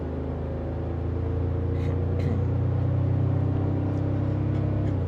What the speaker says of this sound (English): So I want to do one last acceleration for today's video.